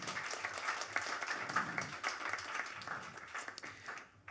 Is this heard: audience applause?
yes